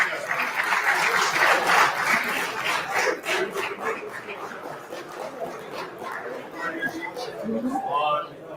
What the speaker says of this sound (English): let's have another round of applause for our